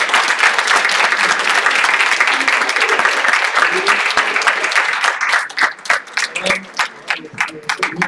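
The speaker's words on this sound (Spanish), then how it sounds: "Deseamos, primero, ofrecerte un aplauso por tu plática" An audience bursts into sustained applause after a talk on gender-focused educational research, dense clapping filling the room before thinning into scattered claps toward the end.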